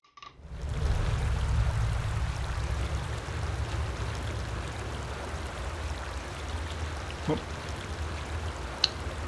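Waterfall rushing in Skyrim Dragonborn, a steady low roar of falling water that fades in and stays constant, with a few faint clicks over it.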